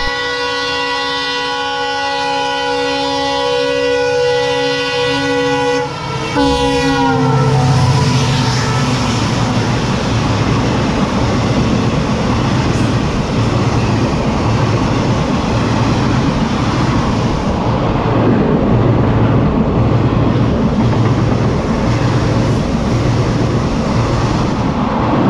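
A train horn blares long and steady at Marwar Mathaniya station in the Thar Desert, then gives way to the loud, continuous rumble and roar of a train crossing close by.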